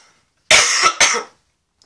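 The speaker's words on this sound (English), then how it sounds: "I've got really bad coughs this morning actually." Two harsh, close coughs in quick succession, loud and raspy, followed by silence.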